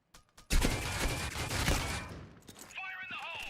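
Gunfire in the C-OPS video game: after a couple of faint ticks, a loud burst of rapid shots erupts and fades over about two seconds, followed by tonal game effects and beeps.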